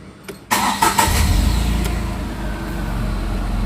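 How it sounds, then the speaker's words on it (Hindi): A car engine fires up and then revs with the clutch held down, close and fairly loud, settling into a steady idle-like drone. "देख लिया आपने, ओनली रीविंग। मेरी यहाँ पे रीव लिमिटर्स है।"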